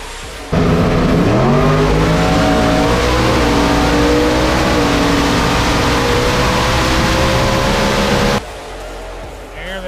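Ford Mustang drag cars launch down a quarter-mile strip at a Street Fighter class event, engines roaring and rising in pitch through the gears for about eight seconds, loud and close, with commentary underneath.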